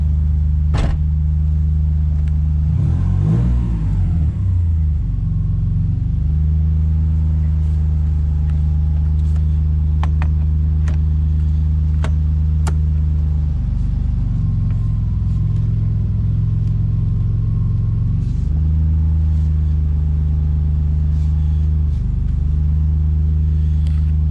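A Subaru Impreza fitted with a turbocharged EG33 flat-six engine rumbles loudly and steadily as it drives, with a deep low drone that dips and swells where the engine note changes, and no talking over it.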